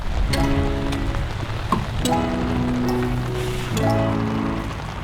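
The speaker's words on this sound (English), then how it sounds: "When it rains here, it properly rains here." Steady rain patters on a hard surface in Norway, with a continuous tonal hum running underneath.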